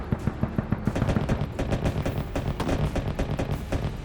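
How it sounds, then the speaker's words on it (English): Bushmaster cannons on Bradley infantry fighting vehicles open fire at a tree line in a Ukraine combat setting, a loud rapid string of heavy automatic bursts with booming low thuds that runs steadily without pause and without voices. "they open fire with their Bushmaster cannons"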